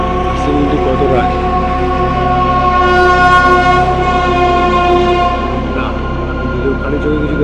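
A goods train passing a rail crossing on a foggy autumn morning: a loud, sustained, steady horn-like tone with a deep rumbling drone, holding for the whole stretch.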